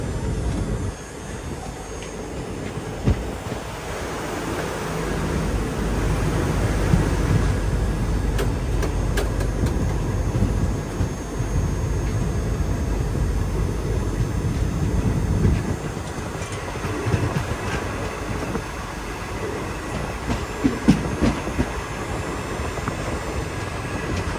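The Ernad Express rolls along the rails on its Nileshwar to Ernakulam run, heard from on board as a continuous, fairly loud rumbling roar with occasional clacks and rattles, and no talking.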